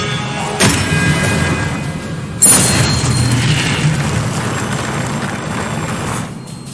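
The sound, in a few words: Expelliarmus spell cast, from the video game Hogwarts Legacy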